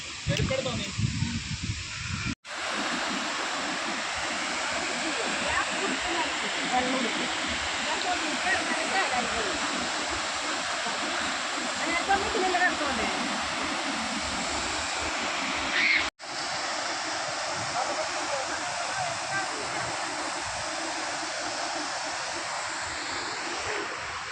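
Athirapally waterfall in Kerala roars as a broad, continuous wash of falling water, loud and steady from start to end, with a faint voice or two heard under it.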